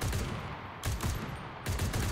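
Lewis machine gun in the video game Enlisted fires in short bursts of two or three rounds, loud and close, with three bursts separated by brief pauses.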